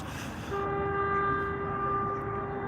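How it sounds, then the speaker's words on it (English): A passing train sounds a long, steady horn tone that starts abruptly and holds, with low rumbling underneath; no talking. "Oh, there's a train."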